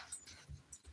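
A spoiled pet dog whines at close range in a few short, soft nasal bursts with brief pauses between them, fairly quiet and with no talking over it.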